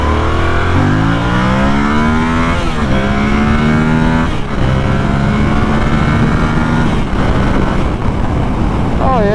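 A 2023 Yamaha R7 sport motorcycle pulls hard through the gears, its loud engine rising in pitch several times and dropping at each shift, heard close from the rider's position with steady wind roar.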